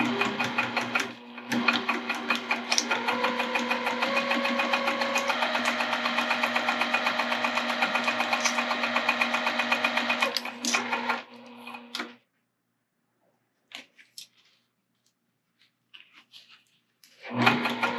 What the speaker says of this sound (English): let's take this over to the machine and sew right on top of that stitching we just made